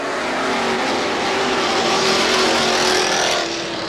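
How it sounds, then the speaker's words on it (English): Race cars roaring past on a short oval speedway track in 1991. The engines make a loud continuous snarl that builds and then fades slightly as the cars run side by side down the back straightaway. "Billy Clark and Ron Coolin go wheel to wheel and side by side down the back straightaway."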